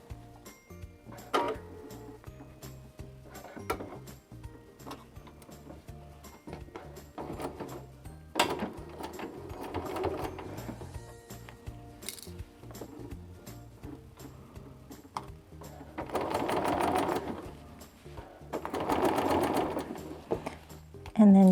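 A home sewing machine stitches the lining of a cosplay haori with a half-inch seam allowance. It runs in several short bursts and a few longer runs, with quiet handling between them and a voice talking over parts of it.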